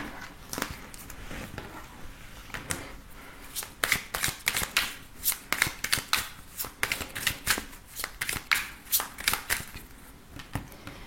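Oracle cards being shuffled by hand in a tarot-style reading, a rapid series of crisp riffling flutters and soft slaps coming in bursts, close and fairly quiet with no talking.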